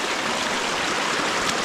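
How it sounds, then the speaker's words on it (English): High water rushes through a blocked-up creek gully in the mountains, a loud, steady, broadband roar with no pauses or voices. "As you can see, the creek should be down through there, like the gully."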